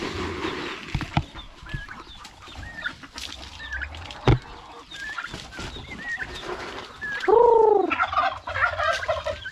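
Turkeys at feeding time, with rapid gobbles and clucking among other poultry outdoors, mostly at moderate distance, and one loud gobble rising close by near the end.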